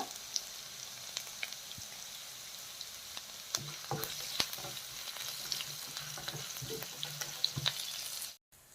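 Green chilies and asafoetida fry in hot oil with chana dal for a Telugu curd chutney. The crackle is fairly quiet and steady, broken by stirring clinks and scrapes, then the sound cuts off abruptly near the end.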